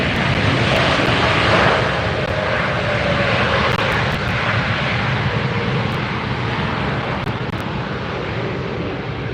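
A Swiss Air jet landing at LAX with its thrust reversers deployed produces a loud, continuous broadband engine roar that stays close and steady throughout, slowly easing slightly toward the end.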